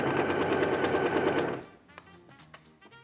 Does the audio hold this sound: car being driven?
no